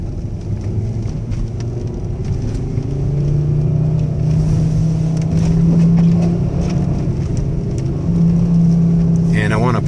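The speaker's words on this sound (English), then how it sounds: "I am going uphill a pretty good grade right now" A car on all-season performance tires climbs a steep grade on a wintry Colorado road, its steady engine and tire rumble droning loud and continuous throughout.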